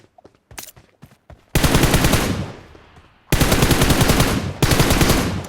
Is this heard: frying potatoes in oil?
no